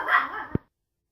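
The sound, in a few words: puppies barking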